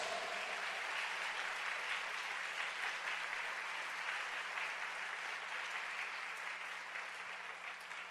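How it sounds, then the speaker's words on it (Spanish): Sustained applause from a church congregation during a Catholic priest's sermon, loud and steady throughout, a dense wash of clapping with no pauses. "Denle ese aplauso fuerte a su Dios."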